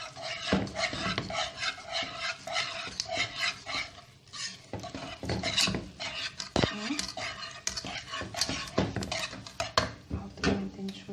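A utensil stirs and scrapes continuously in a pan as milk is worked into béchamel sauce, with close clinking and rasping strokes in an uneven rhythm and a faint sizzle beneath.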